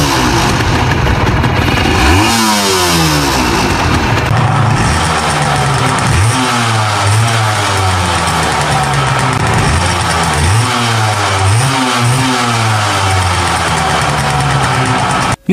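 A Honda NSR250R two-stroke V3 motorcycle engine revving hard and loud, with repeated rising and falling sweeps through the gears close by, buzzing without a break, no voice heard.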